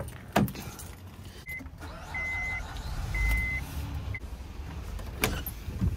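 A car engine starts and idles to warm up on a dark, snowy Canadian morning: a steady low rumble with a few short electronic chime beeps partway through, no talking.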